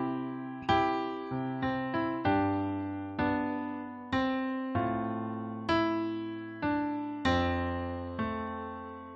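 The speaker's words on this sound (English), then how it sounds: "Now we have a piano part here" Piano part played from a MIDI file in Logic: a series of separate struck chords and notes, each decaying before the next, clear and moderately quiet with no other sounds.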